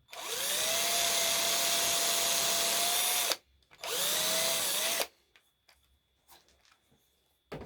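A power drill driving a screw into a wooden door joint, two loud steady whirring bursts of about three seconds and a second and a half, the motor pitch sagging under load, followed by quiet handling clicks.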